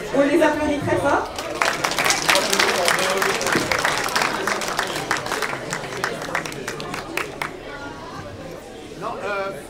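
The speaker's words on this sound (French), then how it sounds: "on les applaudit très fort." An award ceremony audience claps loudly for a school team receiving certificates, a dense burst of applause with crowd chatter that gradually thins out, voices rising at the start and end.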